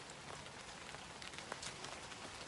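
Rainwater shaken from trees by the wind drips onto a tarp, a dense patter of soft taps and occasional heavier drops, faint and steady throughout.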